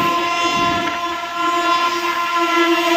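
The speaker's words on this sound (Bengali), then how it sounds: "রামরাজাতলায় 16 মিনিট ট্রেন ডিলে ঢুকলা, দেখো এখন ছেড়ে যাচ্ছে রামরাজাতলা" A Howrah–Midnapore local train pulls away from Ramrajatala station, a loud sustained horn tone held over the rumble and rattle of the moving carriages close by.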